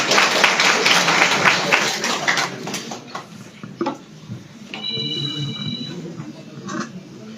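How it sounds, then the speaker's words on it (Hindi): Applause for a young girl receiving a certificate of encouragement at a JKAS officers' student ceremony, a dense burst of clapping for a couple of seconds that tapers to a few stray claps, followed by quiet room noise. "जोरदार इनके लिए भी तालियां"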